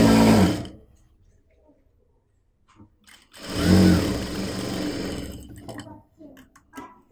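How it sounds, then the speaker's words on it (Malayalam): A sewing machine stitches old bed sheet fabric being turned into an umbrella-style churidar, running in two close bursts of motor whir separated by a quiet pause. "ഈ ബാക്കിയുള്ള ഭാഗം കൂടി സ്റ്റിച്ച് ചെയ്യാം."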